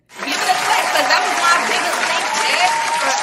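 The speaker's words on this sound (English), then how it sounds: "Give it a clap" Steady applause from a crowd at a live show, dense clapping that swells in quickly and holds at an even, loud level throughout, with a hint of laughter mixed in.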